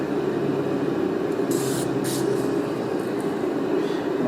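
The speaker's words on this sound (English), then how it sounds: "I'll spray the bushings down" A spray can hisses steadily at close range onto the rack and pinion bushings of a Toyota Hilux Surf, with a continuous broad rush and a few brief, sharper bursts.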